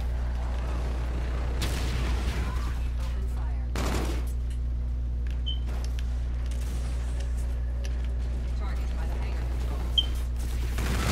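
Gunfire and explosions in the Call of Duty: Infinite Warfare video game, bursts of shots and booms over a steady low rumble, with scattered smaller impacts.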